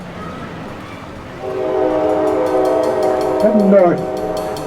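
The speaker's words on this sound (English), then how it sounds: "And there goes Amtrak." An Amtrak passenger train passes near an outdoor band concert on a green, sounding a sustained, multi-tone horn over a rumbling approach. Someone says a couple of words briefly.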